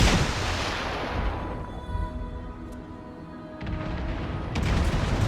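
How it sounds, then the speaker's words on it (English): A ship fires a torpedo salvo in a naval combat video game, heard as deep booming launches and rumbling blasts rising and falling over a dense battle din. "I finally got a good torpedo salvo off on this guy"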